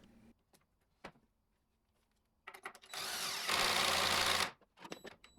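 A power driver sets pocket screws into a wooden cabinet base in one sustained whirring burst that rises in pitch near the end. Short clicks and handling knocks come before and after it.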